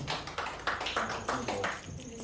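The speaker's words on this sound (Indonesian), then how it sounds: "Tepuk tangan buat Tuhan Yesus." A congregation at a Sunday church service claps in a fairly quiet, rhythmic burst, with claps repeating steadily before tapering off, and some voices underneath.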